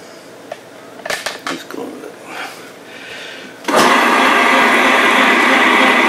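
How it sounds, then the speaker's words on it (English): A meat grinder running fat through a second pass for Thuringer bratwurst: after a few clatters and knocks, the electric motor kicks in with a loud, sustained whirring grind that continues steadily to the end. "Now I want to grind the fat. I grind it the second time, as you can see."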